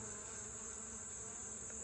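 Honey bees in a hive being given more room for building make a faint, steady hum with no pauses.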